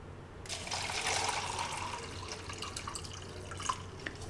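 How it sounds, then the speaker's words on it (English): Warm water poured into a container to mix plant fertilizer for indoor cucumbers, a moderate splashing, trickling stream that starts abruptly and continues with a few drips, no talking. "And then what I normally do is add some warm water."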